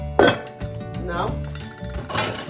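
Spiralized courgette pasta is stirred into thick tomato sauce in a bowl, with clinks of a utensil against the dish and soft squelching, while a person talks over it.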